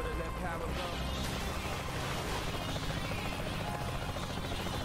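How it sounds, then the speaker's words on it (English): A helicopter in the video game Saints Row The Third gives off a continuous rotor thrum and engine hum, steady and fairly loud, with muffled voices mixed underneath. "Where's that guy in the helicopter going?"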